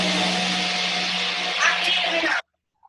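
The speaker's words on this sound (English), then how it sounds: "He's lucky it's a 45-second blender." Blender whirring as it mixes a Shakeology shake, a loud steady whine running for over two seconds before cutting off abruptly, followed by brief silence.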